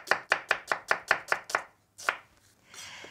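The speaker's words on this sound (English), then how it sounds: "we just want to slice the onion quite thinly" A kitchen knife slicing an onion thinly on a cutting board, eight quick, evenly spaced close chops in a steady rhythm, then a pause and a single final cut followed by a soft scrape.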